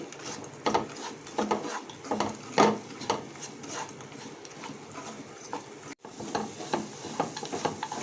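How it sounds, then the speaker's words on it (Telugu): Flattened rice and wheat rava laddu mixture being mixed and pressed with milk, a close run of rhythmic squishing and scraping strokes with occasional clicks, moderately loud with no talk. "బాగా కలుపుకోవాలి మనకు లడ్డు వచ్చేంత వరకు పాలు వేసుకోవాలండి"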